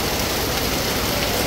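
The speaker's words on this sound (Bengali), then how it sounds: "সময়ের সাথে সাথে বৃষ্টির পরিমাণ বাড়ছে" Heavy rain pours down at a rural village market, a dense, steady hiss of drops on surfaces filling the short stretch with no voices.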